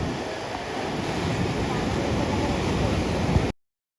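Steady, broadband roar of sea surf at Kanyakumari, with wind buffeting close to the microphone, continuous for about three and a half seconds before cutting to silence.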